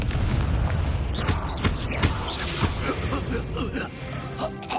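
Spell blasts from Bombarda and Confringo in the Hogwarts Legacy video game: dense repeated booming explosion bursts and impacts across a busy combat mix, with a voice calling out in the background.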